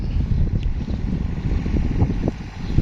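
A small John Deere 3936E tractor with a fairly quiet exhaust runs steadily, giving a continuous low rumbling drone with no voices over it.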